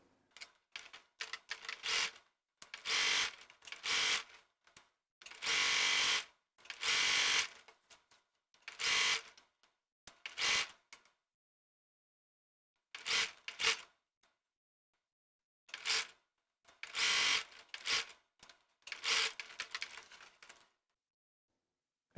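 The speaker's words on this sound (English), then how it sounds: "I just finished sewing one of the plackets on." A sewing machine stitches a placket seam on a garment in repeated bursts of rapid mechanical whirring, each lasting a second or two, separated by short pauses and some longer silent stretches.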